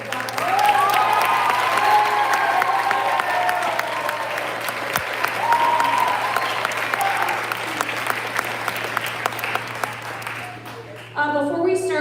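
Audience at a school band finale concert applauding the prelude music performers, sustained crowd clapping with scattered voices and faint cheers, thinning near the end before a voice begins.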